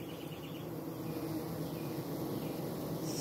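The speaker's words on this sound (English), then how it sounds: "My bees are waxing the outside of the hive, and man, they're cooling it." A dense, continuous buzz of many honeybees droning together as they fan their wings to cool the hive, steady and close, with no voices.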